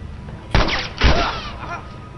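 Two sharp gunshots in The Last of Us Remastered, spaced about half a second apart, loud and close with short echoing tails, alone without speech.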